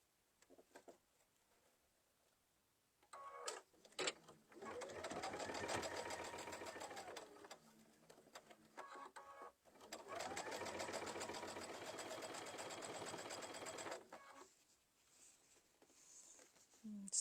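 A sewing machine stitches a fabric candy twist pouch in two long steady runs of rapid needle chatter, each with a short stop-and-start before it, set apart by a brief pause and quiet handling, with no voices.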